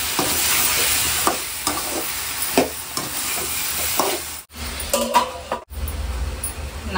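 Chopped brinjal and drumstick fry in a hot pan in a home kitchen, a steady close sizzle broken by repeated scraping strokes of a spoon stirring the vegetables, with brief clinks against the pan.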